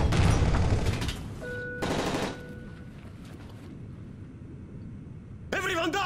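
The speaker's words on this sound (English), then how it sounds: "That's gunfire!" Bursts of automatic gunfire in Call of Duty Modern Warfare 3, a loud rattling volley up front and a second short burst, then quieter game ambience before another sharp noise near the end.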